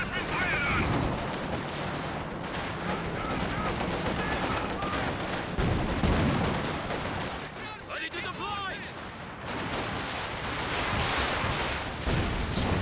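A Stuka fires rockets blind during a 2v2 Company of Heroes 2 match, giving a prolonged barrage of booming launches and impacts with repeated crackling bursts, while a commentator talks throughout.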